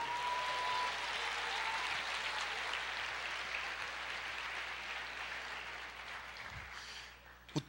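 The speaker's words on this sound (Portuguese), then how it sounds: "Aplauda o Senhor" Church congregation applauds in a sustained wash of clapping that fades gradually toward the end, ending with a sharp knock.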